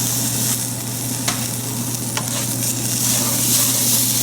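Cashews and spices, including turmeric, fry in a pan for masala rice with a steady close sizzle and a few light scrapes of stirring. The hiss stays even and loud throughout.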